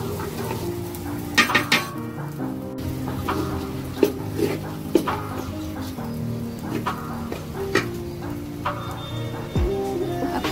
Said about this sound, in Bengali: এভাবে এখন এভাবে ভাজতে থাকবো আমি এটি।